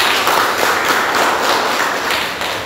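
Students in a university class applaud with brisk, dense clapping that sounds close and loud and runs steadily for a few seconds before easing slightly at the end.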